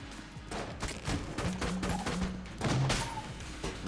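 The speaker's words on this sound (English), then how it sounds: "Why is our mailbox not shooting as much anymore?" Rapid bursts of shots from a mailbox gun in Enter the Gungeon, a steady crackling volley of game gunfire with a few brief tonal blips, fairly loud and continuous with no talking.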